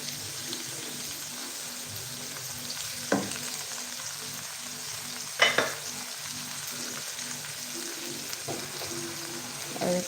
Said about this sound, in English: I'll fry this very well